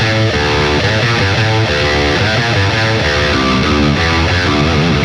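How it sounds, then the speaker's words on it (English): Heavily distorted electric guitar riff repeats a phrase three times and then answers with a varied fourth, chugging loud and dense with steady rhythmic palm-muted attacks and no voice. "if we apply that same formula to our riff, it'll sound like this"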